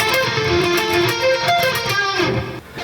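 Distorted electric guitar solo passage, a dense, loud, continuous run of fast picked notes that cuts off abruptly near the end.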